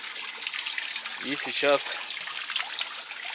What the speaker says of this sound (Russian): Вода стекает с Альп.